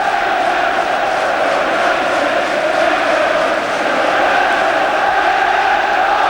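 A football crowd at the 1990 FA Cup Final between Manchester United and Crystal Palace sends up a loud, continuous roar and cheer that fills the stadium, with no break and no single voice standing out.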